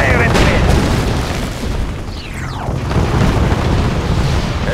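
Booming naval gunfire and explosions from Red Alert 2, a real-time strategy game with Russian forces against Allied ships, rumble steadily and loudly with a sharp whistling streak near the middle.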